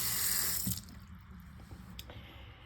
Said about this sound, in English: So just fill some small glasses, tap water, it's fine.